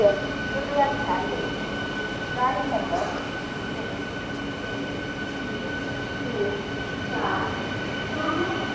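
An Ernakulam MEMU electric train, an older rake, sits at a station platform in Kerala, with a steady electrical hum, low rumble and faint squeals amid station bustle and scattered voices in the background.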